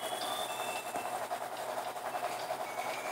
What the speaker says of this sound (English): Our train arrived and we boarded it towards the city.